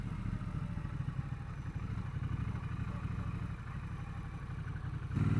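A Triumph Bonneville Bobber 1200 motorcycle rolls along in first gear, its engine giving a steady, close, low rumbling throb that swells slightly louder at the very end.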